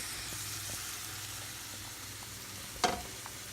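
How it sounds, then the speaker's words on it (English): Sautéed ingredients and oil for lentil soup sizzle steadily in a pan, a continuous soft hiss with a brief louder clatter near the end. "where the lentils are boiling, and you're going to transfer it with everything, the oil and all of the ingredients"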